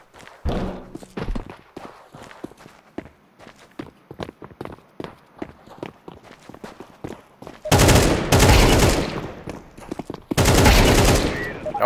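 AK rifle gunfire in the video game Counter-Strike 2: rapid footsteps and scattered shots, then two loud, sustained automatic bursts near the end, close and dominant.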